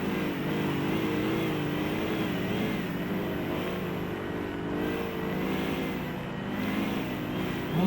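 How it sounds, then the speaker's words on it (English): A rotator tow truck's engine drones steadily while it is driven off-road on rough, low-traction ground in the game Motor Town. The loud, continuous rumble holds a near-constant pitch with slight wavering. "this rotator is not designed for this kind of off-road"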